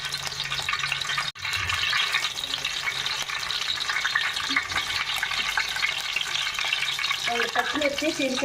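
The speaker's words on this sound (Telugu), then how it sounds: "పచ్చిమిర్చి చీలికలు చేసి వేసుకుందాం. ఈ సొనంతా వేసేసుకుందామండి ఆయిల్లో." Green chilies frying in hot oil for an Andhra-style fish curry, a steady close sizzle with stirring scrapes running throughout, briefly cut by a short gap.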